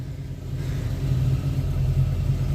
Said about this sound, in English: Here we go, first startup after putting in the new floors.